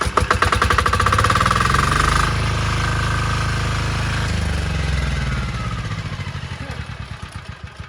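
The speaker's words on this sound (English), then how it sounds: "Then you come, you hold your pull start, and you can start." An air-cooled generator engine pull-started after decompressing, catching into a loud rough clattering run close by, then its pitch dropping and slowing as it settles and begins to wind down, no talk.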